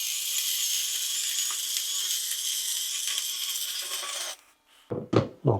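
Nuttii burr travel coffee grinder grinding coffee beans, a steady high-pitched motorized whir that cuts off near the end, followed by a few sharp knocks and rattles.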